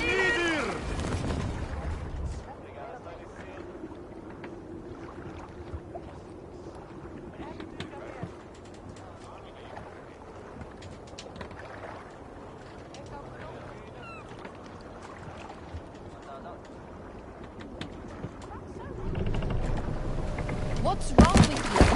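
A Viking longship under sail in Assassin's Creed Valhalla, with a steady wash of water and wind rushing past the hull, louder bursts at the start and end and a low sustained rumble throughout.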